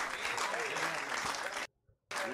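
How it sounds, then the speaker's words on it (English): Dense audience clapping, loud and continuous, cut by a brief silent gap before resuming for a moment. "Why are they clapping?"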